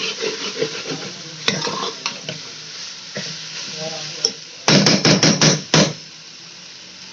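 Kachnar keema sizzles and fries in a pan while a utensil stirs and scrapes it, with irregular clanks and a loud burst of rapid metallic knocks near the end, close and without talk.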